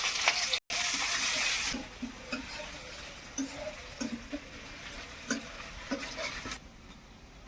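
Chopped onion dropped into hot mustard oil with sugar and bay leaf gives a loud burst of sizzling that quickly settles into a softer, steady fry, with light clinks of a utensil stirring the pan.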